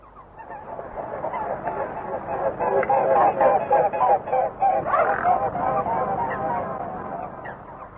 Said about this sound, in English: The ducks spend the day here in big packs